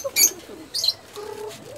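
A pet pigeon gives a few soft, close coos broken by two brighter chirping bursts, with quieter calls trailing off near the end and no voices over it.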